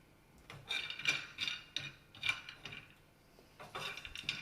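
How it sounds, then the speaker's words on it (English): Peanuts being stirred while roasting in a pan, repeated close scraping and rattling strokes of the nuts against the metal in irregular bursts, fairly quiet, with no talking. "So keep stirring this for like a few minutes."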